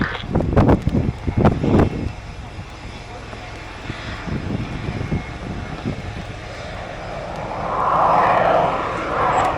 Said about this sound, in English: in a slow speed pass dedicated to Wing Commander Sahil Gandhi, flying just at 180 kilometers per hour